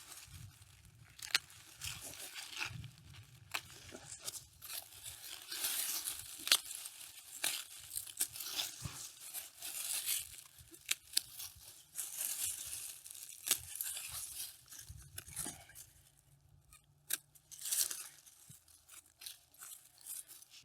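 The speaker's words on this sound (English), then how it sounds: "So get your secateurs and gently cut the leaves back." Secateurs cutting back old plant leaves during a spring garden cleanup, close crisp snips mixed with rustling, tearing and crinkling of foliage in an uneven rhythm that continues for a while.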